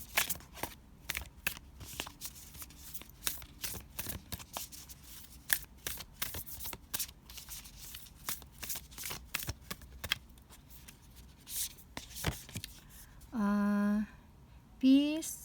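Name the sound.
shuffling oracle cards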